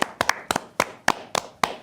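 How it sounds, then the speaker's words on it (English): A few people on a school talk show clap briefly, sharp close claps in loose pairs and singles, about seven bursts in under two seconds with quiet gaps between. "Let's clap it up."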